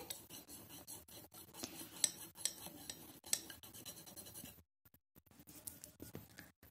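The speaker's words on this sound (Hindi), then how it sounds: "अब इन दोनों को आप अच्छे से मिक्स कर लें" A spoon stirs apple cider vinegar and one other ingredient together in a small bowl, making scattered light clinks and scrapes with a short pause partway through. No one speaks.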